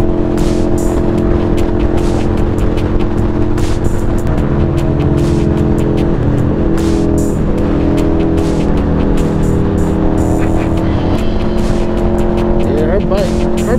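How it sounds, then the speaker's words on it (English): A loud Can-Am Ryker Spyder three-wheeled motorcycle engine runs steadily up close, a continuous droning rumble that shifts pitch as it revs, heard amid a group ride of Spyder riders. "Her bike is so loud."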